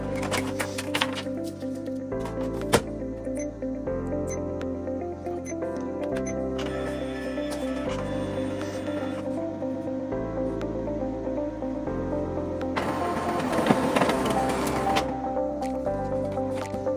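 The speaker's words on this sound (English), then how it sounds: "The scanner completed the task in 17 seconds, which is not good for this printer." An OKI MB562 printer scanner running a scan from the glass, a continuous motor whir with stepped tonal shifts and faint clicks, ending in a louder mechanical rattle near the close.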